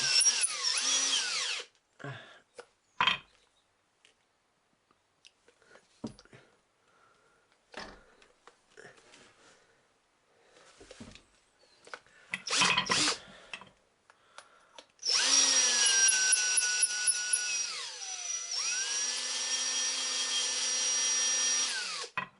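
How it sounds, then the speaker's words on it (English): Intermittent clicks and short bursts of handling noise lead into a power drill turning a .284 Shehane cartridge case for neck turning, whirring steadily, its pitch dipping briefly under load before holding a long, close spin. "The chuck on the actual drill is a bit wanky."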